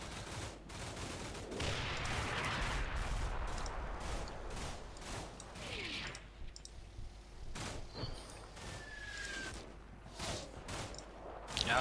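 Gunfire in the video game Combat Mission Shock Force 2, repeated crackling shots and bursts of automatic fire, some sharp and near, others distant, continuing steadily throughout.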